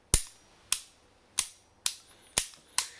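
Six sharp, crisp metallic clicks of the ambidextrous safety lever on a Kimber Warrior 1911 pistol, spaced about half a second apart, loud and close, with silence between them.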